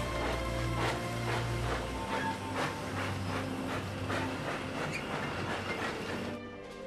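A departing train rolls along with rhythmic clickety-clack of wheels over rail joints, a steady rumble carrying throughout with a low drone fading after the first couple of seconds.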